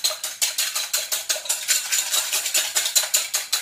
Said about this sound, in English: we're just going to give our eggs a little whisk here in the bowl